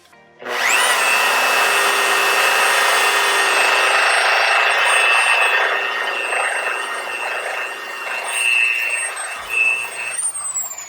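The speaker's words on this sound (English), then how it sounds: "And now I gotta keep sanding it." A power sander whines steadily and loudly for about ten seconds on a cloudy, oxidized headlight lens of a 2004 Honda Accord, its pitch wavering slightly toward the end as pressure shifts, with no talking.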